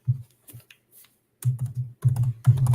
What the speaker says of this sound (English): while James is typing that